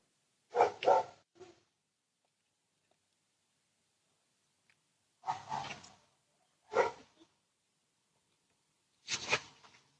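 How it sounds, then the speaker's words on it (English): A dog barks in four separate bursts, some doubled, spaced out across a quiet scene with silence between them, sounding moderately distant. "Dog is barking."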